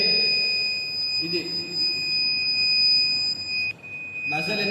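An emergency buzzer on an IoT women's safety device sounds a steady, piercing high-pitched tone that holds nearly unbroken for several seconds, with brief muffled voices underneath.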